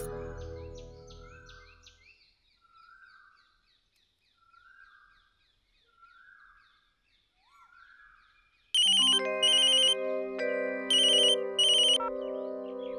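A phone ringtone plays: soft, repeated chirping tones for the first several seconds, then a much louder electronic melody kicks in and rings out clearly on its own.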